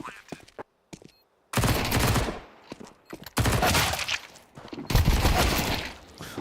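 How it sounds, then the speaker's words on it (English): Gunfire during a Counter-Strike match at IEM Dallas 2025 comes as loud, rapid bursts of automatic shots separated by brief silences. Several dense volleys run close together and dominate the clip. "That's a gun."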